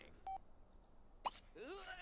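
Short electronic beeps and tones play as a mobile phone is dialed in The Sims 3, with brief chirpy game sounds following; faint and sparse against a quiet background.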